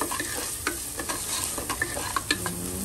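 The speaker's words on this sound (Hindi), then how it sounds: "ये सारे सूखे मसाले हम डाल देंगे प्याज में, और मसालों को भी डाल के भून लेंगे।" Dry spices and onions frying in a pan for pav bhaji, a steady close sizzle broken by repeated spatula scrapes and clinks, with no voices.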